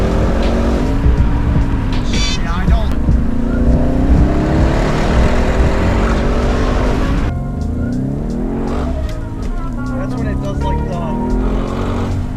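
A manual-swapped Audi C7 S6 drives loudly on the road, its engine droning steadily with shifting tone through gear changes, and a voice talks briefly over it near the start.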